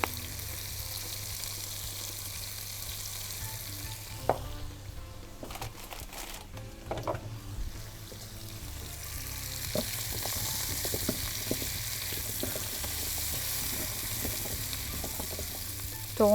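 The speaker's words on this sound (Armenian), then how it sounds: "Թողում ենք լավ տապակվի" Vegetables with paprika and cumin frying in a pan for a quinoa salad hiss and crackle steadily, broken by several close scraping and knocking stirs.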